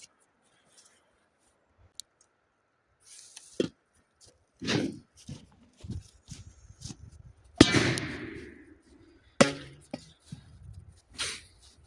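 Firecrackers go off inside a pot, giving a handful of sharp, separate bangs with short crackling tails, spread irregularly across the stretch after a quiet opening.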